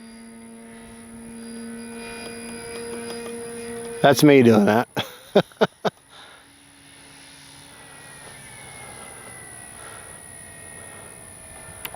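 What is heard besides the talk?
3X Flex RV8 60E radio-controlled model airplane flying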